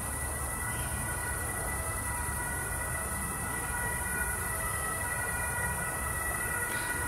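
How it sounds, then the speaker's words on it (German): An ambulance siren wails in the distance at night near a cemetery, faint and steady under a constant background hiss, with no voices. "Krankenwagen."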